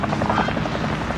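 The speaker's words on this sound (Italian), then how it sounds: "Elicottero." Helicopter in Call of Duty battle royale, a loud, steady rotor thrum with rhythmic blade chop throughout, close and continuous.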